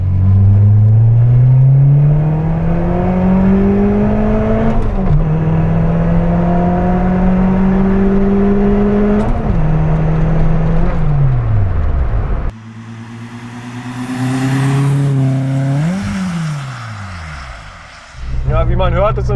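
A VW Polo with an older aftermarket exhaust drones as it drives, the engine rising and falling through several gear changes, steady and fairly loud throughout, with a slightly muffled, deep tone.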